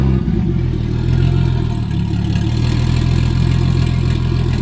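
A big-turbo 2JZ engine in a Toyota Crown runs loud and close, settling into a steady rumbling idle right after starting.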